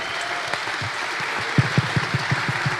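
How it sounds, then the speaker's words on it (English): Applause from the audience at a Bitcoin conference in El Salvador, a steady crowd wash with a few sharper, closer claps standing out near the end. "just a round of applause to this group"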